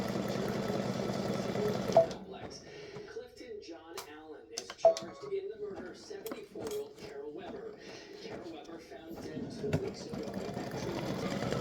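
An embroidery machine stitches decorative text onto fabric for a Memorial Day display stand, a steady mechanical whir first, then quieter ticking and tapping stitch runs as the machine keeps working.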